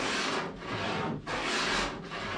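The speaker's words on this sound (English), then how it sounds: "I will start with the chamfer, 45 degrees up to the last layer of the plywood" Hand tool rasping along the edge of plywood to cut a 45-degree chamfer for a DIY boat, in three long, close, steady strokes with short pauses between them.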